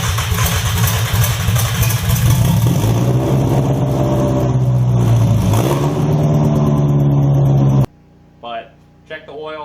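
A Nissan Sentra Spec V engine on an open header exhaust revs loud and close, its raw note rising and falling in strong pulls for about eight seconds before cutting off abruptly; a few brief voice sounds follow in the quiet.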